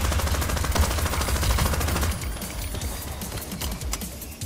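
Gunfire in the video game Crime Boss Rockay City: dense, rapid automatic shots in a loud, continuous burst that thins slightly partway through, with no voices.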